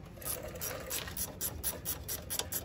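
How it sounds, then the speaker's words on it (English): A ratchet loosens the sway bar end link bolt on a 2007 GMC Sierra/Silverado, a fast run of close clicking pawl strokes repeating steadily without talk. "I'm going to loosen the bolt on the sway bar end link."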